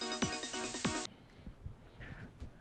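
A mobile phone rings with a loud electronic melodic ringtone for about a second before cutting off, leaving faint room noise and a few soft knocks.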